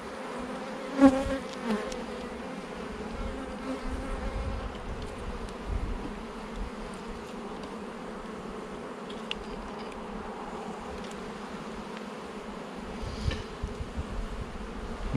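Honeybees buzz steadily around an open hive during an inspection of hive number three, a dense, continuous drone close by with a brief louder burst near the start.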